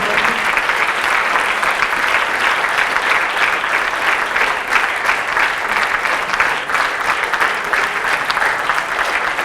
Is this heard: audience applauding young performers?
yes